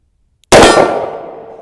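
A single sharp, loud report from a Smith & Wesson 686 Plus .357 Magnum revolver fired at 20 yards, hitting with an abrupt attack and then ringing off in a bright metallic decay for about a second, with no voices.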